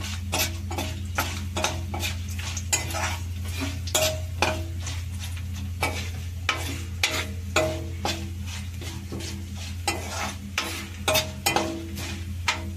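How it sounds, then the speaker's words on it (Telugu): Sun-dried chillies crackle in hot tempering oil in a pan, with repeated sharp pops and clinks of stirring over a steady frying hiss, close and fairly loud, no voices. "ఈ ఊరమిరపకాయలు నేను తాలింపులో వేసేసుకుంటున్నా"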